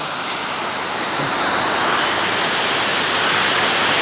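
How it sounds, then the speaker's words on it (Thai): Sai Yok Noi waterfall in Thailand pours in a constant loud, dense rushing roar of falling water, steady throughout with no voices. "มาเที่ยวน้ำตกไซโยกน้อยครับลองมาเดินชมดูนะครับ"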